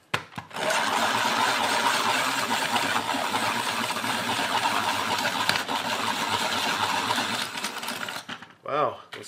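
A pencil sharpener grinds a Mitsubishi graphite pencil to a long point, a loud continuous motorized whir that runs steadily for about eight seconds before cutting off.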